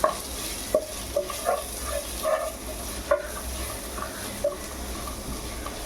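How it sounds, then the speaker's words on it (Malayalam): Kashmiri chili powder, coriander powder, chili powder and curry masala sautéed in a pan, a low sizzle under repeated clanking stirs and scrapes of a spoon against metal, irregular and close. "കാശ്മീരി മുളക് പൊടി മല്ലിപ്പൊടി മുളക് പൊടി കറി മസാല നന്നായി വഴറ്റിയെടുക്കുക"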